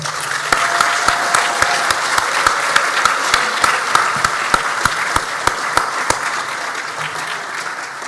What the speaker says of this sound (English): Let's give these guys here a round of applause.